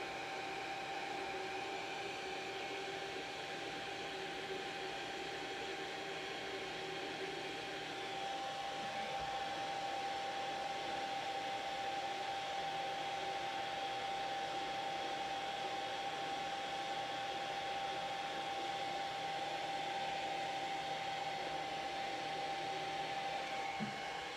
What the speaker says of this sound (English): Again, use your hairdryer.